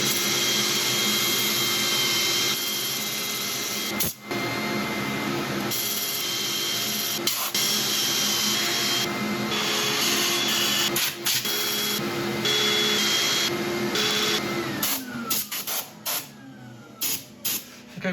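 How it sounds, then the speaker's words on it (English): Sanding a laburnum log spinning on a wood lathe gives a steady, loud whirring hiss that runs almost without break, with a few short dips and scratchy shifts as the abrasive is pressed and lifted. "I'm going to set up for sanding again"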